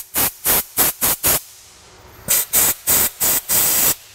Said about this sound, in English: I go in there with a little bit of compressed air.